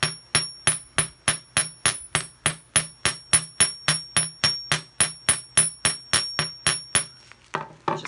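A metal hammer strikes sterling silver being formed into a heart, about two dozen sharp ringing blows at an even quick rhythm, close and clear.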